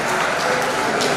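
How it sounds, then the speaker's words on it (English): Audience applause fills a university gathering, a steady dense patter of clapping from a crowd heard close and fairly loud throughout. "please give him a round of applause."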